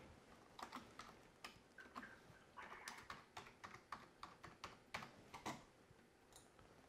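Quick, light keystrokes tap out a password on a keyboard at a Trimble TSC7 field tablet, a short irregular burst of close, faint clicks with brief pauses, no voice.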